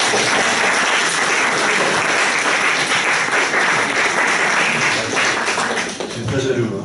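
An audience at a master's programme presentation bursts into loud, dense applause that carries on evenly for several seconds, with some voices mixed in near the end.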